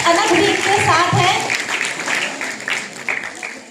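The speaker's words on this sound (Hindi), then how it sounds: "जोरदार तालियां।" Applause fills a hall at a Hindi award ceremony as a student is honoured. The clapping is steady and continuous, with voices mixed in.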